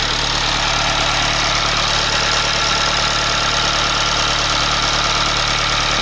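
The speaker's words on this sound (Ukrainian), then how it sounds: "Двигунець працює нормально." A 2.2 DI-D diesel engine in a Mitsubishi Outlander idles steadily and loudly up close, a constant low rumble with a rattling, knocking texture that never changes pace.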